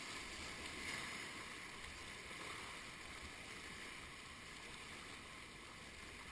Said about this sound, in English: You see, Colby, those are big waves.